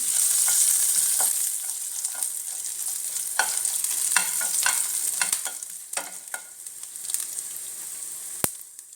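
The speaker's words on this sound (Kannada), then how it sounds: "ಸ್ವಲ್ಪ ಹಸಿಮೆಣಸು, ಸ್ವಲ್ಪ ಇಂಗು ಹಾಕಿ ಚೆನ್ನಾಗಿ ಫ್ರೈ ಮಾಡ್ಕೊಳ್ಳಿ." Green chilli and asafoetida tempering frying in hot oil, a steady bright sizzle throughout with intermittent scrapes and clicks of a spatula stirring the pan.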